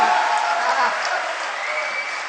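Audience at a Hindi poetry recital (kavi sammelan) in Lucknow clapping steadily in a dense, continuous burst of applause, moderately loud and sustained throughout.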